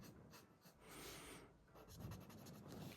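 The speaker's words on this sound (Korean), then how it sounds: "분홍색 마카가 없어서 일단은 살색 마카로 칠해 보겠습니다" A skin-colored marker coloring in the lips of a caricature drawing on paper, quiet close scratchy strokes rising and falling in two short passes.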